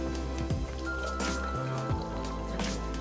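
Punch ingredients such as sugar, honey water and ginger ale being poured quickly into a jug, giving a steady gushing, glugging liquid sound with a few sloshing dips, loud and close throughout.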